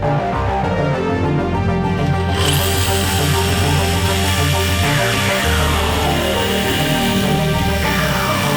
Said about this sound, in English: We did this with a jigsaw